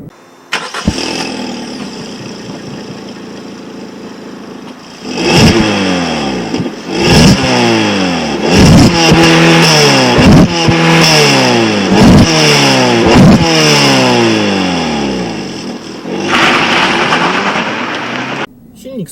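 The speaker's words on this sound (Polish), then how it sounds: "Swift'a ochoczo wkręca się na obroty i brzmi przy tym całkiem przyjemnie" A Suzuki Swift 1.2 DualJet petrol engine revs repeatedly, climbing in pitch with each pull and dropping back between, several rising sweeps in a row, loud and close.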